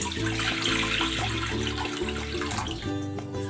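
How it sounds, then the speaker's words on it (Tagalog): Water poured into a frying pan while cooking fish, a full steady gushing splash at close range lasting several seconds, with no talking. "Maglalagay ako ng tubig dito sa kawali."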